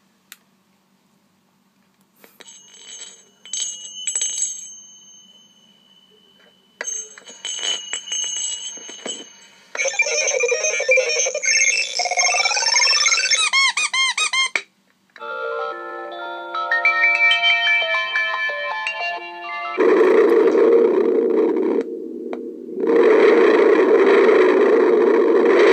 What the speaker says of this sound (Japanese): スイッチを押しますと、中にもうすでにいくつかサンプリングさせている音色があるんですが、それがランダムじゃないですね、順番に再生されます。